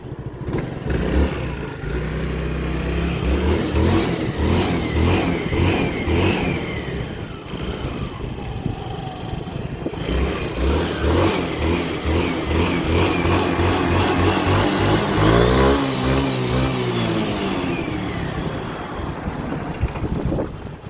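A motorcycle engine revs up and down several times, rising and falling in pitch, fairly close and loud with no talking, while jump-starting a car.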